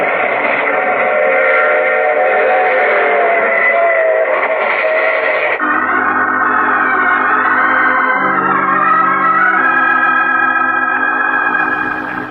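Steam train effect from an old-time radio drama: a loud, continuous rumble with sustained whistle-like tones throughout, shifting to a lower, chugging texture partway through, with no talk over it.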